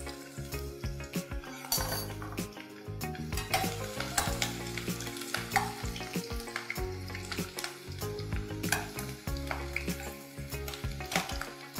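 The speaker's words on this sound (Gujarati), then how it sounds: "તેલ બી આવી ગયું છે, તો આપણે એમાં બટેટા તળવા મૂકી દઈશું." Raw unpeeled potatoes drop into hot oil and sizzle steadily, with intermittent clinks and scrapes of a utensil against the pan close by, and no voices.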